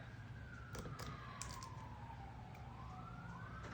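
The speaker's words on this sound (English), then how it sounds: "Ooh, I can hear that siren." An emergency vehicle siren wails faintly in the distance, its pitch sweeping slowly down and up, behind nearby clicks and small clatters of beads being handled.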